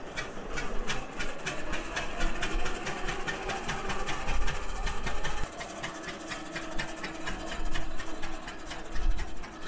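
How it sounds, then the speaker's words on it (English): An old tractor engine, likely a 2040 needing carburetor adjustment, runs at a fast, steady idle with a rapid regular mechanical clatter and low rumble, close and continuous with slight unevenness throughout. "This tractor needs a few more hours to really get it sounding good."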